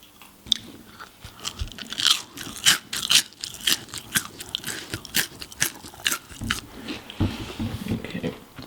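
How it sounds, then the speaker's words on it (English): Food is crunched and chewed right beside the microphone, giving loud, close, irregular bites and crackling chews that repeat steadily. "Why were you crunching next to the camera?"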